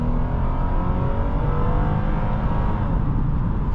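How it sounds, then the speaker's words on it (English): The V6 engine of a 2015 Lexus IS 250 at full throttle, heard from inside the car on a cold day, drones loud and steady as it pulls, with rising pitch and no talk. "The engine actually sounds pretty good because it is a V6 and not a 4-cylinder"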